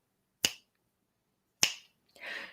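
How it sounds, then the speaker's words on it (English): Finger snaps at an open mic: two sharp, crisp snaps about a second apart, then a softer, smeared third sound, each alone against silence. "So I'm going to hope that I can snap my fingers on a regular basis."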